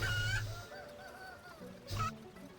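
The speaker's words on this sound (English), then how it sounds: "I'm already getting sick of listening to the chickens die." Chickens squawking as they die in the video game RuneScape 3, two faint honking clucks separated by a quiet stretch.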